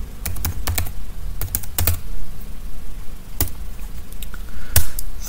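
Keys on a computer keyboard clatter in quick bursts of typing, crisp close clicks grouped in short runs separated by brief pauses, with no talking.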